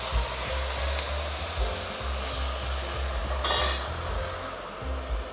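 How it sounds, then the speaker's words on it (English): Stock is poured into risotto cooking in a pan, with loud continuous sizzling and bubbling and a soft rhythmic stirring and scraping underneath, close and steady throughout. "Maglalagay tayo ng stock paunti-unti."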